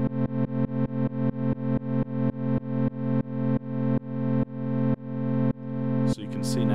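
A sustained synthesizer tone pulsed by a sine-wave LFO, loud and up close, throbbing in regular beats that gradually slow and stretch out before a brief burst of noise at the end. No voice is heard.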